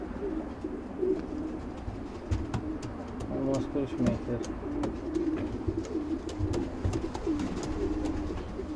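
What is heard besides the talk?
racing pigeons cooing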